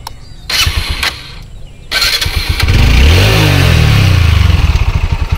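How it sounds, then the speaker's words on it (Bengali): A TVS Apache RTR motorcycle engine cranks in short bursts, then catches and settles into a loud, close idle with a steady throb. "প্রথমে আরটিআর বাইক আমি স্টার্ট করে দেখাচ্ছি।"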